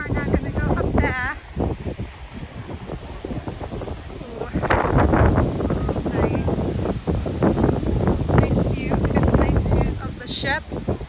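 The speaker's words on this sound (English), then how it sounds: "Oh, the wind is so rough." Strong, gusty wind roars across the beach at Disney's Castaway Cay, buffeting the microphone continuously with louder surges, while a person talks over it throughout.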